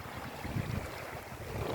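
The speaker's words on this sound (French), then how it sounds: "il y a beaucoup de vent." Strong wind buffets the microphone at the shore of Lake Montbel, a loud, gusty low roar with rushing noise and possible lapping water, continuous with no talk.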